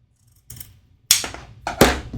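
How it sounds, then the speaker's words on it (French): Scissors cut through backpack strap webbing close up, a few sharp snips and crunches with short pauses between them, no talk. "Et je vais pouvoir venir couper."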